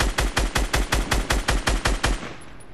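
Rapid automatic gunfire in the Fortnite video game, a steady burst of about a dozen evenly spaced shots over two seconds that then stops, loud and close with no talking.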